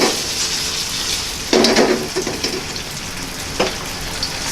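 Tofu and shallots fry in a pan for pad thai, a continuous close sizzle with louder bursts of crackle as the food is stirred or added, and no talking.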